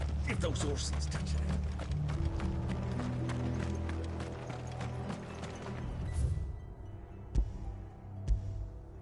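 Horses galloping in the video game Final Fantasy XV, a dense run of hoof clatter under game music and voices for about six seconds, then fading to a few isolated hits.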